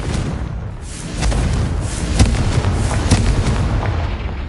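A Confringo fire spell from Hogwarts Legacy goes off in a dense, booming blast over a rumbling backdrop, with several heavy thuds and cracks in close succession and no voices.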